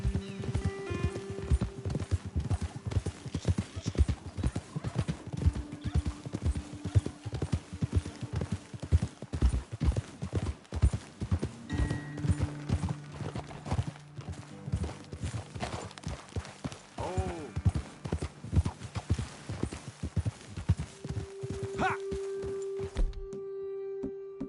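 Horse hooves clip-clop at a steady riding rhythm in Red Dead Redemption 2, close and continuous, with occasional tack clinks, faint music underneath and a brief whinny near the end.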